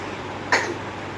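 A young child at home coughs once, a single sharp breathy burst standing out against a steady background hiss.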